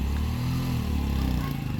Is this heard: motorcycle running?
yes